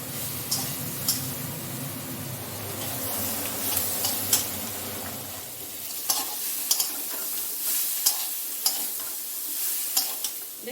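Masala being sautéed in a pan for an egg curry, a steady frying sizzle with regular scraping and stirring clicks from a spatula. It is fairly close and continuous, and no one speaks.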